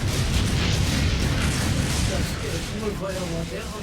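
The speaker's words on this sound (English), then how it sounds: "When the Stalin orgle exploded, the barrage was so intense, it actually destroyed the position." Heavy Katyusha rocket barrage explosions from the Battle of Kursk form a dense, continuous rumbling roar of blasts that slowly fades, with a narrator speaking over it.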